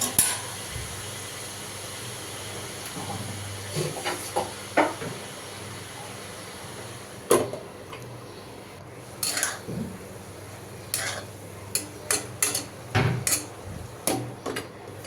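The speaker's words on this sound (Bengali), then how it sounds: "তো ভাজিটাই তো নাড়াচাড়া করে দিচ্ছি, ভাজা ভাজা করে এরপর নামাবো" Pointed gourd (potol) being stirred as it fries in a pan, with a spatula scraping and clinking against the metal at irregular intervals over a steady low sizzle and hiss.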